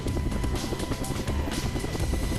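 Inside a helicopter on a marine corps high-altitude parachute infiltration training flight, a loud, constant rotor and engine roar fills the cabin with a throbbing low rumble and no voices.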